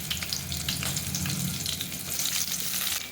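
Finely chopped onion frying in a pan for a spicy chickpea greens dish, a steady close sizzle with crackling bursts throughout and no voices.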